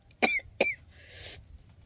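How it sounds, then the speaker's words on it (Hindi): A woman coughs twice after eating salad, two sharp close bursts about a third of a second apart, followed by a softer breathy exhale in a quiet room. "सलाद खा के खांसी आ गया।"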